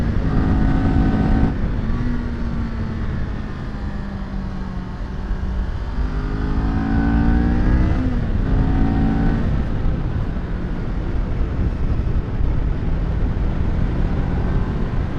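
A Kawasaki Ninja 400 sport motorcycle engine revs and pulls steadily under riding, its pitch climbing and dropping with gear shifts, loud and continuous against wind noise.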